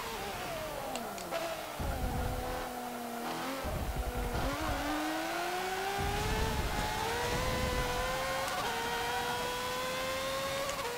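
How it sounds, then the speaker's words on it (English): An F1 race car engine in Forza Motorsport 7 screams loudly and continuously, its pitch climbing and dropping through gear changes and corners. "I don't like driving F1 cars as much as I thought I would."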